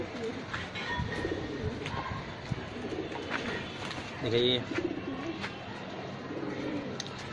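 Soft pigeon cooing and rustling of birds nearby, mostly beneath someone talking, with a brief louder flutter midway.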